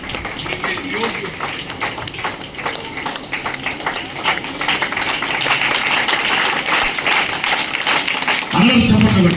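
An audience at a church felicitation for a bishop claps steadily for several seconds, the applause growing fuller toward the end before a voice cuts in.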